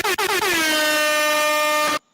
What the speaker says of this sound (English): let me get some air horns in this motherfucker